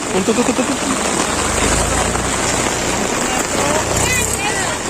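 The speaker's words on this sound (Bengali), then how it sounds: "বিশাল জোর বৃষ্টি আরম্ভ হয়ে গেছে এখানে।" Heavy rain pours outdoors at Santiniketan, a dense continuous hiss with wind and low rumble, while voices talk briefly over it near the start.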